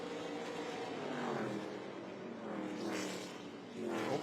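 ARCA Menards Series West race cars on track at Irwindale Event Center at night, their engines roaring past in rising and falling sweeps with a steady racing drone beneath.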